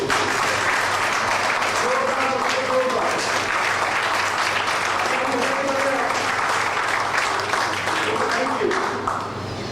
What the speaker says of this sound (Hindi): उनके लिए एक बार जोरदार तालियां होंगे